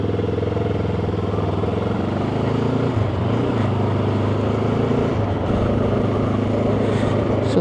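A Benelli TRK 702 motorcycle engine drones steadily while riding and easing off the throttle, a loud, close, continuous rumble with no voices.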